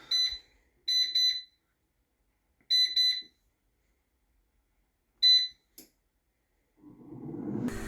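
An air fryer timer finishes with several groups of sharp, high electronic beeps, clear and alone in a quiet kitchen. A soft rushing noise rises at the end.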